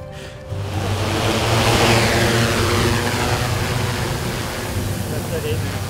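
Freefly ALTA aerial cinema drone in flight, a steady loud broadband rotor whir that swells in after a brief quieter start and holds throughout, with no speech.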